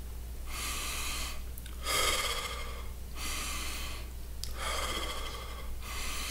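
Breath is held and pushed during a Kundalini breathing exercise, with several loud sharp nasal inhales and exhales coming in steady bursts separated by short pauses, close and heard alone.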